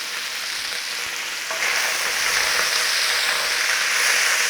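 Beef shin meat browns in a hot pan with a steady, close sizzling and frying hiss that swells a little louder partway through and keeps going without pause.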